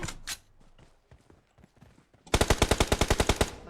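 Gunfire from a video game: a few scattered shots and soft background game noise, then a rapid burst of about a dozen loud, evenly spaced shots in the closing stretch.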